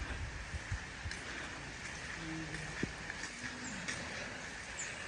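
Rain falls steadily on an African village in Nigeria, a dense, even hiss with scattered faint knocks and a brief low tone, fairly distant and without speech.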